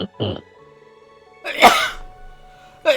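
A single sharp sneeze bursts out mid-clip, preceded and followed by brief speech, close and loud against a quiet background.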